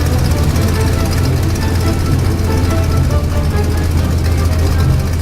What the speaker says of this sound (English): Has the original Franklin 150 horse engine in it.